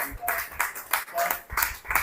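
A seminar audience claps in a few short, uneven bursts, fairly close and moderate in volume, with voices mixed in.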